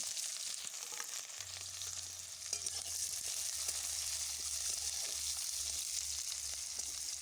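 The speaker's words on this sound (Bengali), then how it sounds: "এবারে দিয়ে দিলাম পেঁয়াজ কুচি।" Chopped onion frying in oil with a little sugar in a wok, a steady bright sizzle with scattered stirring sounds and a low hum joining partway through, no talk.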